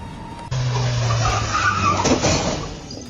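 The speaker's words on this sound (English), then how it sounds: "a pickup truck loses control and passes inches from an elderly woman, sweeping the sidewalk" A pickup truck losing control skids with a loud, sustained tire squeal and engine roar that cuts in abruptly and holds for nearly three seconds, close and harsh.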